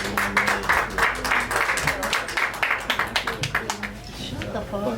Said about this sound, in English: Start clapping again for Mike Ryan.